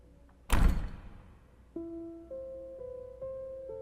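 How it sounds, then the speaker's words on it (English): A single heavy door slams shut in an empty castle corridor at an abandoned Florida theme park, a sharp loud thud with a ringing decay, followed by sustained droning tones. "there came the sound of a door slamming"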